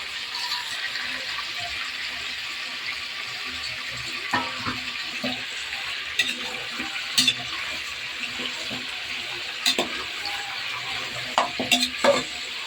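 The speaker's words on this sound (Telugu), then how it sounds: "ప్రజెంట్ అయితే చికెన్ అయితే ఫ్రై అవుతుంది." Chicken sizzles steadily in a pan with masala for biryani, a continuous close hiss with occasional stirring scrapes and clinks, heard alone without talk.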